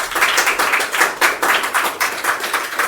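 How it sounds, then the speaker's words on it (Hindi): A group at a business meeting claps in a steady rhythm, with loud, close, evenly spaced beats and no talking. "एक बार जोरदार ताली हो जाए"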